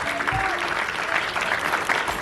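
Audience applause fills the room during a Spanish-language sermon by a bishop, a steady dense clapping held at moderate loudness for about two seconds.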